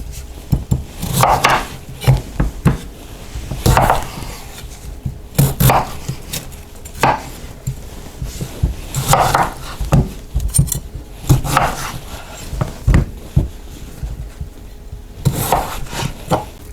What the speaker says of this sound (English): let me just cut these into quarters.